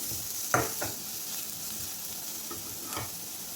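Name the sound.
onion being stirred and fried in a pan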